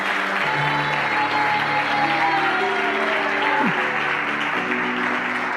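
Church congregation applauding steadily throughout, a dense, continuous wash of clapping with sustained musical tones underneath, likely an organ or keyboard playing softly behind the crowd.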